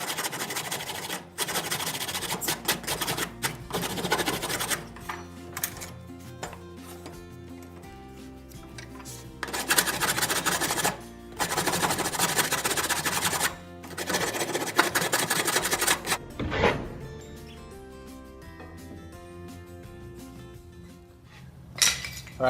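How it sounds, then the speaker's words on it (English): Hand file rasping across wooden radiuses on trestle bench parts clamped side by side in a vise, repeated loud scraping strokes in bursts with short pauses, no talk. "I'm going to clamp these side by side in the vise and work these radiuses a little bit with a file."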